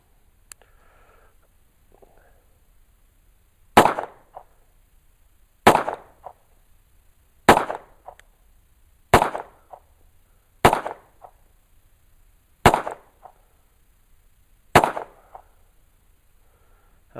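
Seven sharp, loud pistol shots from a Nighthawk Custom T3 1911 firing 230-grain full metal jacket rounds, evenly spaced about two seconds apart, each with a short ringing decay, after a quiet start.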